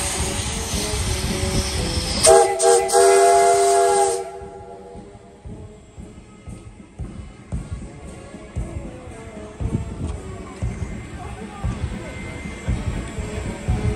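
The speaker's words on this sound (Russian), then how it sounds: "Как и тогда, поезд прибывает в торжественной обстановке." A train whistle sounds loudly for about two seconds near the start, then fades into rumbling crowd noise and murmuring voices, at a ceremonial reenactment of the first train's arrival in besieged Leningrad.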